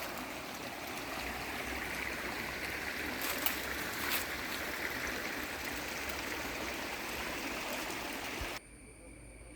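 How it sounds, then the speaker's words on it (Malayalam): A small stream running beside a cardamom, pepper and nutmeg plantation in Idukki, a steady close rushing and burbling of water that cuts off near the end. "നമ്മുടെ സ്ഥലത്തിൻ്റെ സൈഡിൽ കൂടെ ഒഴുകുന്ന തോട് ഇതാണ് കേട്ടോ"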